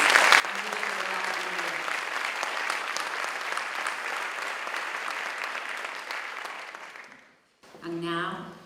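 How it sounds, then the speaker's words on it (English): Audience applause at an awards ceremony, a sustained burst of clapping from a large crowd that fades out after several seconds before a voice starts speaking. "let's have a round of applause for Antionette in her absence"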